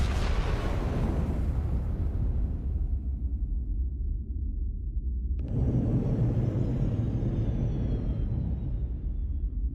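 Starship weapons fire in the Star Trek: Resurgence video game, a deep booming rumble that decays, then a sharp new blast with a descending high whine midway, loud and continuous.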